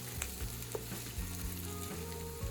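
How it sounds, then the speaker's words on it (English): Onion sizzles steadily in a skillet, a constant close crackling hiss broken by several soft scrapes of stirring, with no voices. "Add the onion first and stir gently until it starts becoming fragrant."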